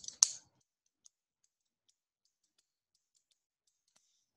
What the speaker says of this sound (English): And now all I do is I separate the liner unit using the cutting tool.